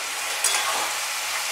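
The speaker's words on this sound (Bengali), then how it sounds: "এবার এইগুলোর সাথে আমি সাঁতলাবো দিয়ে, যতক্ষণ না এটা ভাজা হয়ে তেলটা বেরিয়ে আসছে ততক্ষণ।" Spices sizzle in hot oil in a pan while being sautéed for echorer (jackfruit) dum biryani, a steady soft frying hiss with a brief stir midway, no talking.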